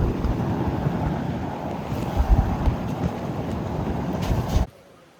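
Strong outdoor wind buffets the microphone in a constant rough roar on a Welsh pheasant shooting estate, cutting off abruptly near the end.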